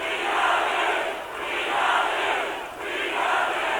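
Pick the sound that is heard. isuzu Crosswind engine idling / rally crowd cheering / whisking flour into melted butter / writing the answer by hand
rally crowd cheering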